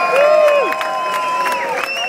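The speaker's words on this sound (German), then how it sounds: "Mal einen großen Applaus!" Crowd at an anti-GEMA street demonstration in Berlin clapping and cheering, with scattered claps under sustained whistle-like tones and rising shouts, fairly loud and continuous.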